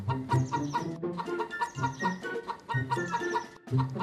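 Chickens on a 500-bird poultry farm cluck in repeated rhythmic bursts, loud and close, with several birds overlapping and no talk over them.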